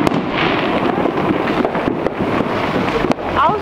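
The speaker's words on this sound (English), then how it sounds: "They came out to watch the fireworks." Fireworks crackle and pop at a distance, a dense rough patter of bursts under gusty wind noise, with one sharper bang near the end and a voice speaking briefly over it.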